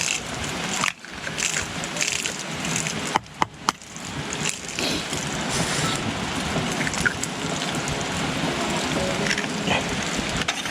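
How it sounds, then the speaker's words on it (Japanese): Heavy rain pours steadily at a campsite, a dense hiss with a few sharp knocks and clatters near the start, loud and continuous throughout, with no clear talking. "なんか雨がすげえ強くなってきた。"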